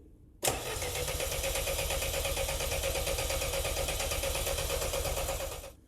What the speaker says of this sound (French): le but maintenant ça va être de faire tourner le moteur et de flasher pour voir si les deux traits s'alignent